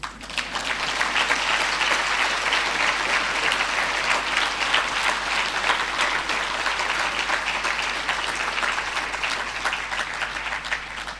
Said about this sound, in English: I want you to clap again